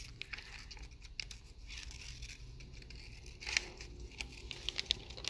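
Scissors snip through paper to cut out a craft paper flower stem, quiet irregular clicks and crinkling rustles close by, with no talking.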